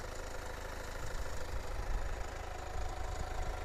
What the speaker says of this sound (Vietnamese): các bác có thể nghe là cái âm thanh máy đang để nổ nó sẽ hơi ồn một chút so với động cơ xăng rồi